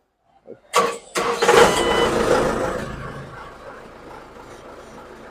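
A combine harvester's engine cranks briefly then catches and roars, settling into a loud, steady idle that slowly eases in level.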